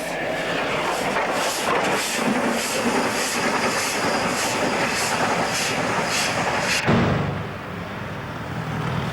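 The Scotsman passenger train touring around Perth rolls past, a steady rumble and hiss of wheels on rail with a regular rhythmic clacking of wheels over joints, fairly close and continuous until it shifts near the end.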